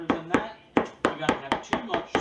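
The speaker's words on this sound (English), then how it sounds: "I think I've chopped it enough" A knife chops cabbage by hand on a cutting board for creamy coleslaw. About nine sharp, evenly spaced thuds fall in quick succession, close and loud.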